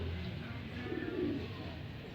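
Pigeons coo softly at a racing pigeon loft, low faint murmuring calls over a steady background hum, with no talking.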